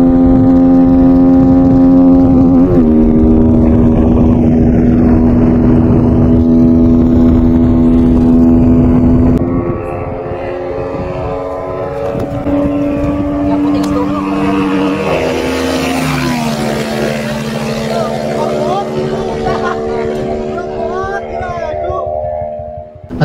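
Rusi Flame 150 motorcycle at top speed, a loud close engine drone with a held pitch that shifts down twice as gears change, under wind rush and someone talking.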